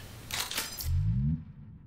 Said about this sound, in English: It'll play all the sounds and the reload animation.